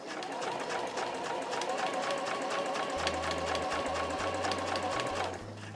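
A sewing machine stitches a reversible drawstring tote bag in steady, rapid runs at close range, pausing briefly and then resuming, with a low hum beneath it near the end.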